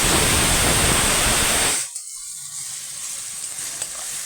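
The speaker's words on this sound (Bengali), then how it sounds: "সুন্দর করে লাল লাল করে ভেজে নেব" Onions fry in oil with a little sugar and salt, a loud, dense sizzle that cuts off abruptly partway through and leaves a faint hiss with soft clatter.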